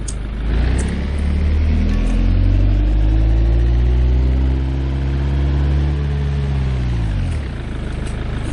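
A car engine in the BeamNG driving game revs while reversing up a hill, a steady loud mid-pitched drone rising and then falling in pitch over several seconds before easing off, with no talk.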